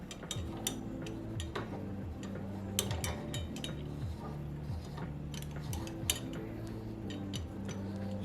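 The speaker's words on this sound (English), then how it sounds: "You're gonna screw that screw into this screw mount and screw it into this point" A screw being turned into a microphone screw mount gives faint, rhythmic metallic clicks and clinks, with scraping between them, heard up close and quiet with no talk over them.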